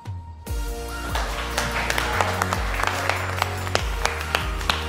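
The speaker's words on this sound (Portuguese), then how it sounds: "O momento em que o palhaço mais perigoso que o Bozo começa a aplaudir" The Joker claps slowly in a Batman film scene, steady hand claps that build from sparse to regular over a low sustained musical drone.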